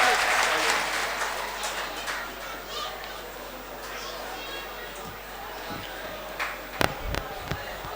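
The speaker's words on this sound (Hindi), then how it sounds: "बस जोरदार तालियों में स्वागत करें साथियों।" Audience at a political gathering of All India Majlis-e-Ittehadul Muslimeen in Uttar Pradesh applauding loudly to welcome a speaker, sustained crowd clapping fading slightly with a few sharp knocks near the end.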